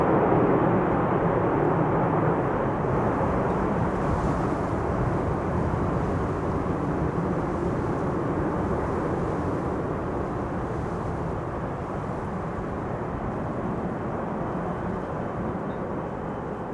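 An airliner landing at Amsterdam Schiphol Airport, heard as a broad, steady roar of engines and rushing air that holds and then fades slightly, with no talking.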